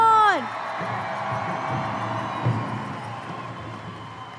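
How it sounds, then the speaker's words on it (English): Crowd cheers and whoops in a large arena at a Gathering of Nations pow wow pageant, sustained and moderately loud after a sharp opening whoop, with a voice speaking over the noise. "Give them a big round of applause really loud."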